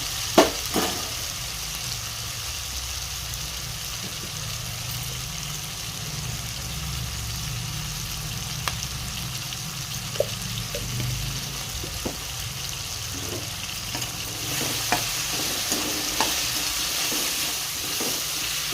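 Ingredients for a paneer curry fry in hot oil in a pan, giving a steady, moderate sizzle with occasional soft clicks and scrapes from stirring, no voices.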